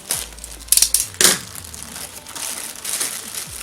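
Crinkling and crushing of packaging as a Zefal bike saddle bag is unpacked, with a few sharp rustling bursts early on, then softer handling noise, close and fairly quiet.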